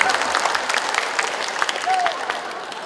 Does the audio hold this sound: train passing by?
no